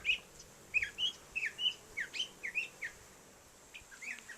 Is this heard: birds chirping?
yes